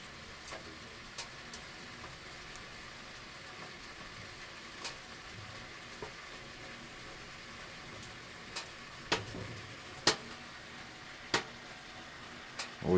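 Water bubbling and crackling inside a bathhouse steam superheater, the ППШ-М2, heard as a quiet steady simmer broken by scattered sharp pops and spits that grow more frequent toward the end.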